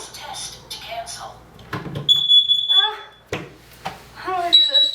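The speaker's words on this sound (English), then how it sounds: "The alarm will now sound in 5 seconds." A home smoke alarm gives high, piercing beeps in short bursts, loud and close, while voices talk over and around it.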